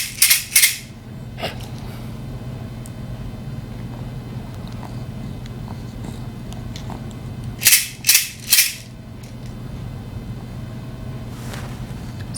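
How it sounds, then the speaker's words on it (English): A small baby rattle shaken beside an infant's ear, giving a few short bursts of bright clattering, one near the start and a cluster of three later, over a low steady room hum. "I have a little rattle here, and I'm just going to shake it by his ear"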